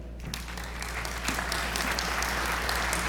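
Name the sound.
audience applause welcoming speaker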